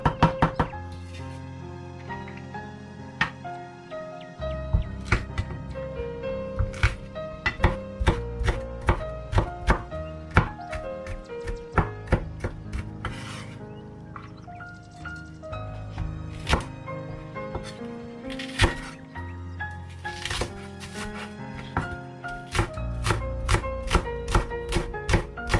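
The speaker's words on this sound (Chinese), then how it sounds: "姜、蒜、葱都切成丁" Kitchen knife dicing ginger, garlic and scallions on a cutting board, a quick irregular series of sharp close knocks and thunks, alone with no talk.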